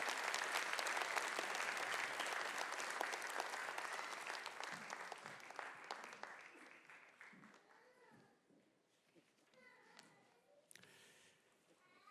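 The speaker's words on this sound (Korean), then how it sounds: "뜨거운 박수로 격려해 주십니다." A church congregation gives warm applause during a Sunday worship service, a dense, sustained roar of clapping that gradually thins and fades out, with a few voices at the end.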